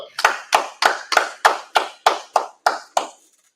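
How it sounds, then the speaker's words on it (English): Ten sharp hand claps in a steady, even rhythm from a group clapping in unison at a Chicago brotherhood class, close and loud, ending with a short ringing tail. "All right, clap it up."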